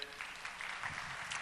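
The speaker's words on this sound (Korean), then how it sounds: "크게 박수로 축복하시길 바랍니다." A church congregation at a Sunday service applauds, a dense, even wash of clapping from many hands throughout, moderately distant and filling the room.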